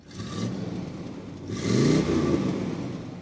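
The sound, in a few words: 1971 Buick Riviera boattail engine running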